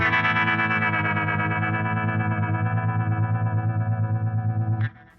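Sustained guitar chord run through a Surfy Industries Surfytrem tremolo/vibrato pedal on the harmonic setting at full speed, throbbing in quick, even pulses several times a second before the note is cut off near the end.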